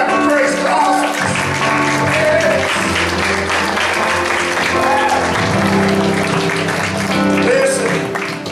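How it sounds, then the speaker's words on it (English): A church congregation claps together during a praise service, a loud sustained wash of clapping mixed with voices and music, with a brief quieter moment near the start. "Give him a hand clap of praise for awesomeness."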